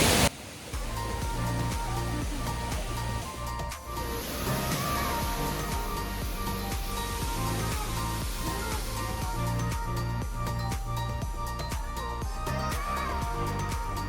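A waterfall near Mussoorie roars steadily and loudly for the whole stretch, a dense rushing wash with rhythmic background sounds layered over it and no break.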